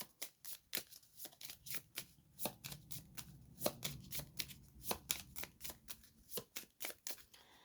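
A tarot deck shuffled and cut, giving quick, soft slapping riffles close by in an irregular rhythm, with no talk over them.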